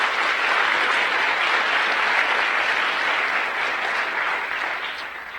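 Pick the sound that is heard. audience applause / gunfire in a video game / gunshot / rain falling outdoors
audience applause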